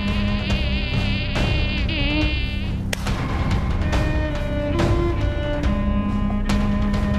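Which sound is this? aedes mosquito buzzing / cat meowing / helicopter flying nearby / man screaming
aedes mosquito buzzing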